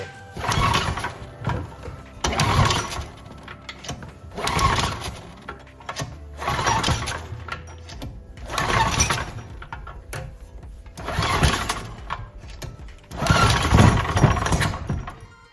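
A small mini bike engine, after carburetor work, is repeatedly cranked with a pull starter in about seven loud, rough bursts at a steady rhythm, sputtering briefly each time without settling into a steady idle.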